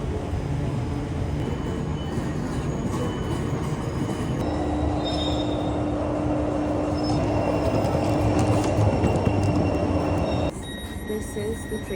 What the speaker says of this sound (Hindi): this is the train